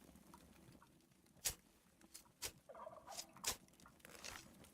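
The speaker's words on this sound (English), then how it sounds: "I was hearing them turkeys in the background. Making turkey noises." Turkeys gobbling in the video game Eco, several faint, distant gobble calls breaking through at intervals over a low ambient background with no talking.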